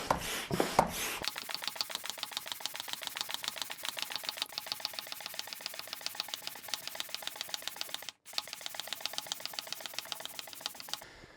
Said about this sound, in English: give it a twist, and we start pumping, we should start seeing this thing inflate pretty quickly